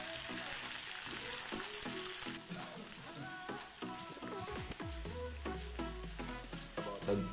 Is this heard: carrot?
yes